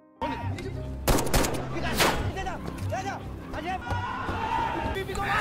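Gunfire in a riot scene from a game set in a conflict zone, with loud bursts of shots and clattering impacts over constant crowd noise and people talking throughout.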